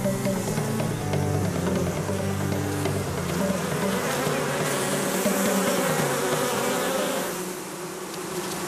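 Honey bees buzzing around their hive, a steady dense hum of many insects up close that continues throughout at moderate level with slight swells and fades.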